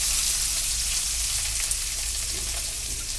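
Sliced onions fry in oil in a pan with green chillies for an egg curry, a loud, even, continuous sizzle close up with no talking.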